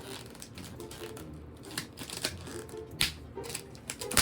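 A FNAF Freddy mystery head being unwrapped, with dense crinkling and tearing of wrapping close to the mic and quick rustling bursts throughout, no talking.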